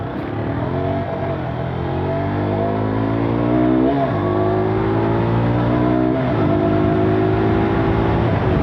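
A 2017 KTM RC 125 sport motorcycle engine revs loud and close, its pitch climbing in repeated surges with brief drops between gear shifts.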